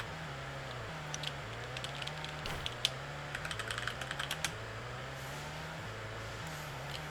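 Computer keyboard keys clatter in short bursts of quick, light taps over a steady engine drone from a GT racing game running in the background.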